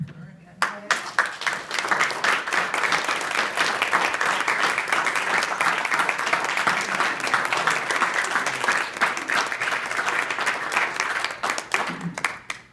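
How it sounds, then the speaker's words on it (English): A crowd breaks into sustained applause, many hands clapping together loudly and steadily for several seconds before it tapers off. "if we can give them a round of applause"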